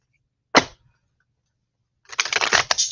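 Tarot cards being shuffled by hand, a brief papery riffle followed by a longer burst of rapid flicking and snapping a moment later, close and fairly quiet, no talking.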